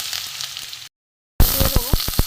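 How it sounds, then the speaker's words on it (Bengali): Chopped garlic frying in mustard oil with bay leaf and whole spices, giving a loud close hiss and crackle of sizzling, broken by a half-second gap of silence before the sizzle resumes with sharp pops and clicks. "রসুন কুচিটা ভেজে নেওয়া"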